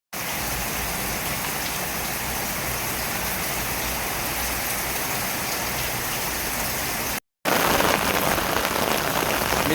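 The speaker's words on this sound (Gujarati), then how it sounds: "ને અત્યારે બી વરસાદ ચાલુ છે" Heavy rain pours steadily in a dense, continuous hiss, broken by a brief silence before the downpour returns slightly louder and closer.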